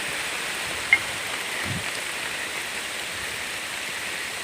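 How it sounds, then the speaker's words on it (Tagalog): Heavy rain pours down in a steady, dense hiss outdoors near a newly planted coffee and kakawate field, continuous with no talk. "Bumuhos naman po yung ulan."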